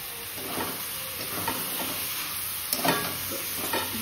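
Taro being fried in a pan with jackfruit being added for mashed taro, a steady soft sizzle with occasional scraping stirs and a louder clatter near the end, no voices.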